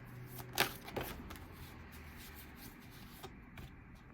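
Tarot cards being shuffled during a reading, with two sharp riffling bursts near the start followed by quieter brushing and sliding of the cards, close and fairly faint, with no talking.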